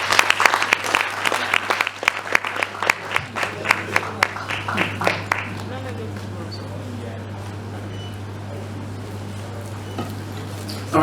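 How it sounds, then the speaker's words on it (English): Crowd applause at a student open forum in Ghana, dense clapping for about five seconds that thins into scattered claps and fades into a quiet murmur of voices and room noise, with a steady low hum throughout. "Round of applause too"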